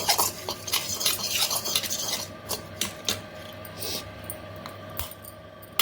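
Spoon stirring chilli powder into munagaku pappu, a drumstick-leaf lentil dish, in a pan, giving a steady run of scraping and soft metallic clinks near at hand, with no talk.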